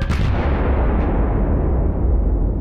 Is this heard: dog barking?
no